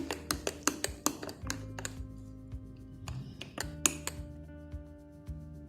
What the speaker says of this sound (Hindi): और इसको अब चम्मच से अच्छी तरह से मिक्स कर लेंगे।